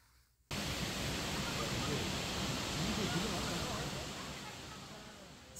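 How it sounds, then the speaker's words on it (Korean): The steady roar of Shifen Waterfall in Taiwan bursts in after a brief quiet start, a loud, dense rush of falling water that holds nearly constant and eases only slightly toward the end. "스펀 폭포를 잠깐 구경하면서"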